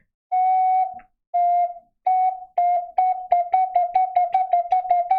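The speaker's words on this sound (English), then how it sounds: "That's the Jaws theme, you're welcome." Solo ocarina plays the Jaws theme: two long sustained notes, then the two-note figure repeated faster and faster in short, clear, whistle-like tones close up, with no voices.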